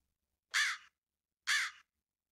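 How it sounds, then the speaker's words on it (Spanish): A crow caws loudly twice from a nearby poplar tree, two harsh, evenly spaced calls about a second apart against complete silence. "El fuerte graznido de un cuervo de un álamo cercano me atrapó por sorpresa."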